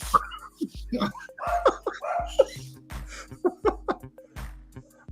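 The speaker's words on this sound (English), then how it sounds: "the puppies are going crazy" Small dogs yip and bark excitedly in quick, high-pitched bursts, mixed with people talking and laughing over them.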